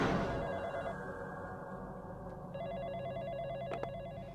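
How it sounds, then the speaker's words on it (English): A phone rings in the video game The Coffin of Andy and Leyley, a repeating electronic ringtone pulse that plays alone at moderate volume over a faint game backdrop. "Phone call."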